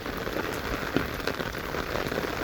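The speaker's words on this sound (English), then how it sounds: "Another thing about the rain, like at night like this" Steady rain pattering on a surface at night, a dense, even hiss of drops with a few slightly louder splats, continuous and close with no voices.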